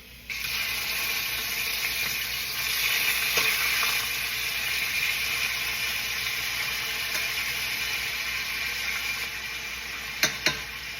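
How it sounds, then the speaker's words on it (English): Beef heart steaks sizzle steadily in hot ghee in a pan, a loud, continuous frying hiss that starts abruptly and holds throughout, with a couple of sharp pops near the end. "We're now going to add the steaks into the pan."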